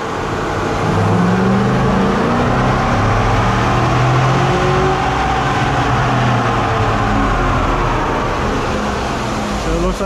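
A turbocharged GMC truck engine revs up hard on a dynamometer, a loud rising roar sustained across the pull with a rumbling low end.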